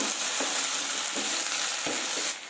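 Potato and pointed gourd pieces being stirred into a cooked spice paste for a Bengali malai curry, giving a steady hiss of frying with a few soft scraping strokes, close and alone with no voices.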